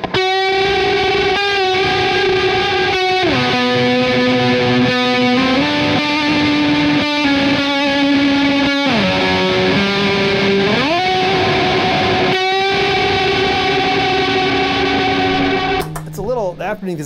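A Matamp GT1 guitar amplifier played through an Afterneath effects pedal, producing loud, sustained, distorted tones that slide between pitches with an eerie, spooky wash, continuous throughout and fading out into scratchy noise at the end.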